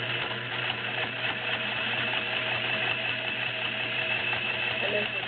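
A vintage Singer 401A Slant-o-Matic sewing machine stitches through five to six layers of denim, running below top speed with a steady, even mechanical hum and needle chatter throughout.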